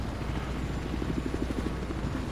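A video game helicopter's rotor thumps in a steady, rapid chop at moderate distance, with no voices.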